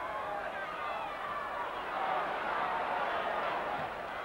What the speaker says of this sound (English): You hear a roar go up now. The fans trying to urge Wednesday into some late bid here for a goal at least.